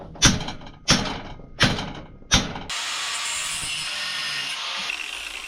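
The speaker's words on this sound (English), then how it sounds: "So you cut what you can, hammer it off." Four sharp hammer knocks at a steady pace strike welded brackets off steel motor mounts, each a loud close metallic impact; a continuous hiss like a grinder or torch follows alone.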